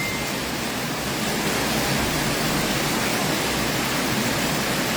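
Floodwater rushing in during Typhoon Crising in Montalban, Rizal, a continuous broadband roar of flowing water that holds steady and close for the whole stretch, with no voices.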